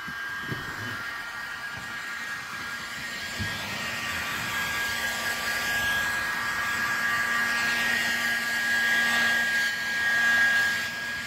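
A heat gun warms a motorcycle seat, giving a steady close blowing hiss with a faint whine that swells slightly toward the end, heard alone without talk.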